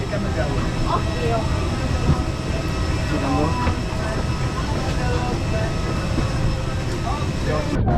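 Steady, loud engine drone fills an airliner cabin on a flight from Cambodia toward Malaysia, a constant broadband roar with no breaks and faint voices murmuring underneath.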